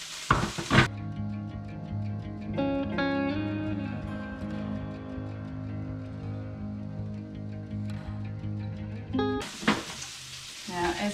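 A food processor chops cauliflower to a rice texture, whirring steadily for several seconds with a dense, grinding motor drone, starting and stopping abruptly.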